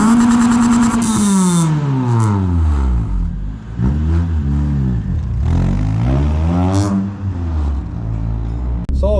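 A 2004 Toyota Celica VVTL-i 190 T-Sport engine revs up and down repeatedly, rising and falling in pitch, loud and close, with a rough exhaust note throughout.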